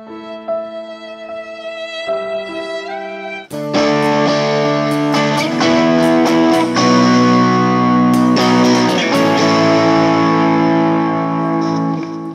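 Electric guitar notes ring out through Helix Native with dotted-eighth delay echoes and a wash of reverb, building into a sustained layered texture.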